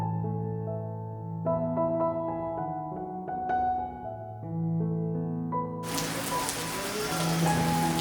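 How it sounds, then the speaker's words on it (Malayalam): Heavy rain bursts in suddenly and pours down in a dense, loud hiss over steady tonal music that plays throughout. "ഇന്നിപ്പോ എന്നും ഇല്ലാത്ത മഴ കേട്ടോ, നല്ല ഇടിമഴയുണ്ട്."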